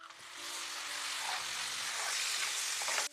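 Onion, ginger-garlic paste and cashew paste fry for a chicken curry with egg and cucumber, giving a steady, close, loud sizzle that holds for about three seconds, with a few faint stirring scrapes and no talking.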